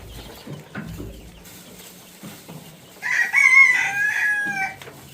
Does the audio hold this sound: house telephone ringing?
no